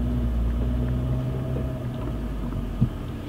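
A Land Rover climbs a steep off-road hill at the Overland Expo, its engine giving a steady low rumble that holds throughout, with a brief knock near the end.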